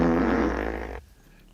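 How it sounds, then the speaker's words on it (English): Bullfrog fart sound effect: a single loud, low, buzzing rasp lasting about a second, then cutting off abruptly into near silence. "I'm trying to find the Bullfrog fart."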